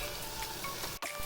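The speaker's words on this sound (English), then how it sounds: "you can add it at the time of frying your onions." Onions sizzling in a frying pan, a soft steady crackle and hiss of frying, faint and continuous with a brief stir or dip near the end.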